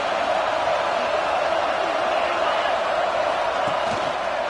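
Dense, steady roar of a large stadium crowd at a football game, loud and continuous with no pauses, filling the space like a vibrating wall of noise.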